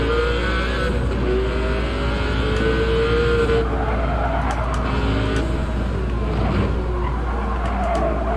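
Sauber race car in a racing video game at the Nurburgring, a steady loud engine drone with shifting revs and tyre squeal, continuous and close with no talk.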